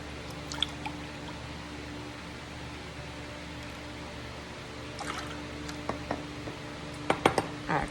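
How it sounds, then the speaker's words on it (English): Milk, two cups, pouring into a cooking pot on the stove, a soft continuous pour under faint room hiss, with clinks of dishes and cutlery near the end. "First, we're going to put in our milk."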